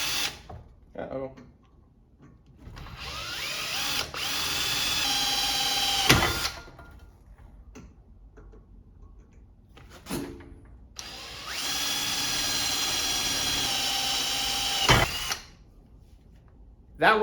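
A power drill bores holes into round metal stock at a punched starting mark, with two sustained whining bursts separated by quieter gaps and brief spoken remarks.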